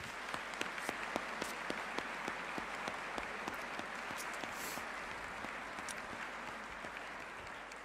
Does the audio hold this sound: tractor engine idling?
no